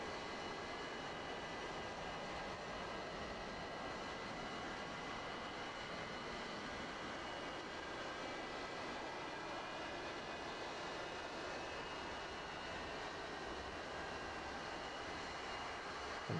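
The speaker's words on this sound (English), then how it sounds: "let's go ahead and crank that left engine" Simulated jet engine of a Su-30 Flanker fighter spooling up during a cold start in the DCS flight simulator, a faint, steady whine and whoosh holding evenly for about sixteen seconds with no talk over it.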